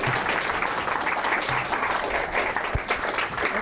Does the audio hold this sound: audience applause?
yes